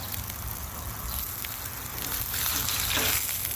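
Bacon slices sizzle and crackle steadily on a 28-inch Blackstone griddle, a dense continuous frying hiss that swells slightly louder toward the end, with no talking.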